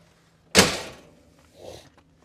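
A single solid clunk of a 2022 Bobcat S76 skid steer cab door latching shut, close and abrupt, followed by a softer muffled knock a moment later.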